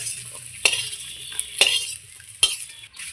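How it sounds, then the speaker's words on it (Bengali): Garlic with green and dried chilies fries in hot oil with a soft, steady sizzle, broken by three sharp metallic scrapes of a spatula against the pan at regular intervals. No speech. "যে রসুন, কাঁচা লঙ্কা, শুকনো লঙ্কা তিনটেই আমি সুন্দর করে ভেজে নিয়েছি লাল লাল করে।"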